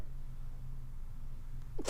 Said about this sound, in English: Oh, she sneezed on it.